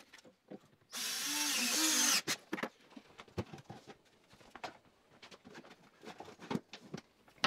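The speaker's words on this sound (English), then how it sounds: "And then I screwed into the two cabinets, pulling them together." A power drill drives a screw to join two neighbouring cabinets, giving one loud, steady whir lasting about a second. Scattered clicks, knocks and handling noises follow.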